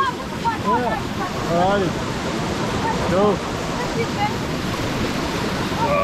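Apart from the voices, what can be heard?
water flowing in a small mountain creek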